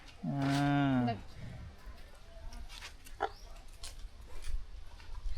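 Cows mooing at feeding time on a farm: one loud, close, drawn-out moo, followed by quieter shuffling and faint farmyard sounds.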